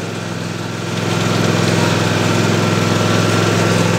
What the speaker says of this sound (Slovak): a vidíte, že traktor ide bez toho